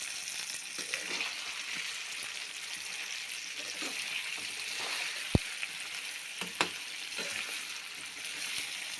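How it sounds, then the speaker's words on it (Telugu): Eggplant cooking in a pan produces a quiet, continuous sizzle with a soft watery hiss, broken by a few sharp clicks of a utensil. "వంకాయలు ఊరికే మగ్గిపోతాయి ఫ్రెండ్స్"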